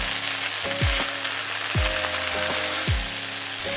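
Diced vegetables and wild rice sauté in olive oil in a pot as they are stirred. A steady, close sizzle runs throughout, broken by a few scraping stir strokes.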